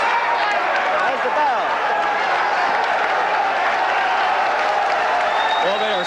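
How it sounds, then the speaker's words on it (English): A boxing crowd in a drill hall roars and cheers between rounds of a 1978 James Scott vs Eddie Gregory fight, a thick continuous wall of cheering and clapping with a ringside commentator talking over it. "crowd cheering upstairs in the drill hall"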